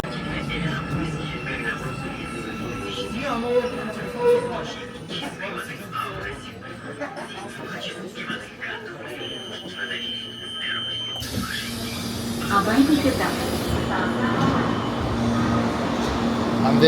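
An Almaty metro train runs through an underground station, with rumbling and squealing wheels over steady noise that swells toward the end, while someone talks over it throughout.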